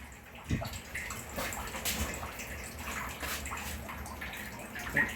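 A bowl that held spices being rinsed with water in a kitchen: running, splashing water with soft clinks and gurgles, close and steady throughout.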